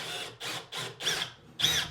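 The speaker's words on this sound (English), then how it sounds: "Giant drill bit for a small job." An electric drill with an oversized bit bores a hole into a wall during an electric fireplace install, in five short, close, gritty bursts separated by brief pauses.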